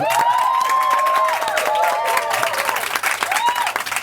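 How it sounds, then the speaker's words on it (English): Steady applause from an audience fills the space, with crowd noise and a few whistles or cheers mixed in, loud and continuous. "let's give a big round of applause"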